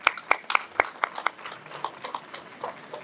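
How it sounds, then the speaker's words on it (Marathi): At a Mumbai Diwali issue launch attended by sanitation workers, a small audience breaks into sharp, scattered handclaps that start loud and quickly thin out into a few sparse claps. "एकदा जोरदार टाळ्या."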